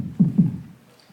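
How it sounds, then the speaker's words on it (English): An undistorted 909 kick drum, a clean sine-like thump that hits hard and decays smoothly: two deep punchy hits in quick succession, alone and fairly quiet, fading into silence. "What this is just a 909 kick drum."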